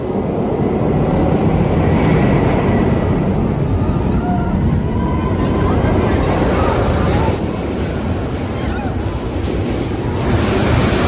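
The Magnum steel roller coaster at Cedar Point rumbles along its track in a loud, continuous roar of wheels and rushing wind, close and unbroken throughout the ride.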